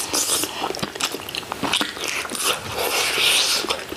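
Close, crunchy biting and wet chewing while eating spicy rosé jjimdak braised chicken with mushrooms at home, continuous and loud with no talk.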